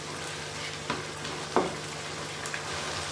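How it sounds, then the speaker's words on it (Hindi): Chicken karahi fries in a pan, giving a steady close sizzle with a few brief stirring clatters and no talking. "अभी हम इसको अच्छे से भून लेंगे।"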